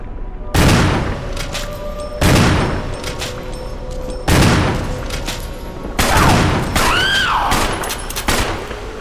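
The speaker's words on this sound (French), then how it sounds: "et des coups de feu" Four loud, booming gunshot bursts in the video game Resident Evil, spaced a couple of seconds apart, each ringing out with a sharp crack and decaying echo, close.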